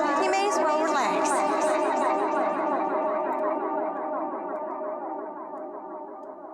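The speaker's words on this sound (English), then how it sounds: "Absolutely swimming in echo and reverb." A music sample drenched in Valhalla reverb and echo, with a smeared, choral wash of repeating tones that lingers and slowly decays toward the end, loud and dense.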